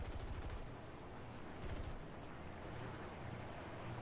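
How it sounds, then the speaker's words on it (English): Aircraft nose-mounted machine guns fire in a tank battle video game, with dense, loud bursts of rapid gunfire over a steady rumbling engine drone. "Oh, I have machine guns on my nose."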